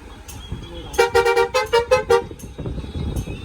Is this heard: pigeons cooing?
no